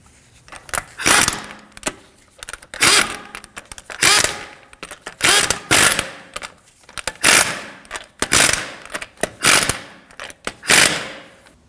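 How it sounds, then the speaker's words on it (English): Lug nuts being run down on a 2013-2015 Subaru XV Crosstrek wheel after a rear shock and spring swap: a dozen or so bursts of rapid mechanical ratcheting spaced about a second apart, close and loud, with no voices. "Snug down the lugs, but don't over tighten them"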